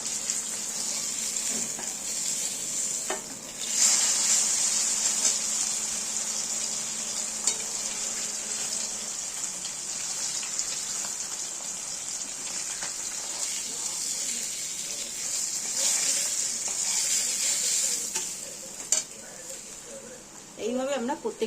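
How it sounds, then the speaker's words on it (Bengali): Pomfret fish frying in oil in a pan, a steady close sizzle running throughout with occasional brief clatters and stirring noises, at moderate level. "এখানে আমাদের মাছটা ভাজা হচ্ছে"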